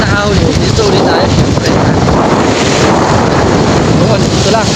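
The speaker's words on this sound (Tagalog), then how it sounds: "sobrang lakas ng hangin" Strong wind roars constantly into the microphone out on Laguna Lake during a fishing trip, a dense, loud, unbroken rumble with water noise mixed in.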